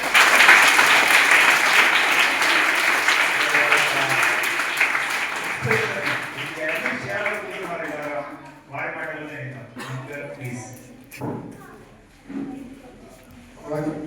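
Loud audience applause fills a youth icon award ceremony for Swami Vivekananda Jayanti in Uravakonda, Anantapur, clapping steadily for several seconds before fading as a person begins speaking over the hall.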